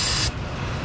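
A can of brake cleaner sprays onto an engine around the oil pressure sensor of a 2005 Dodge Stratus. A loud, close, hissing blast cuts off abruptly after a fraction of a second, leaving low workshop rumble.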